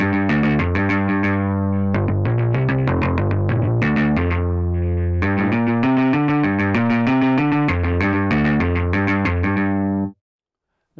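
Retrograde bass synth patch in mono mode, played as a fast punk-like run of staccato distorted bass notes, loud and dry with brief gaps, then cutting off abruptly near the end.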